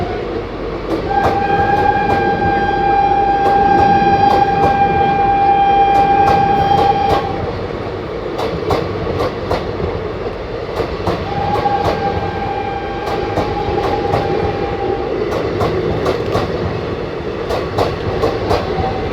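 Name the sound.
Howrah–Prayagraj Rambag Bibhuti Express train running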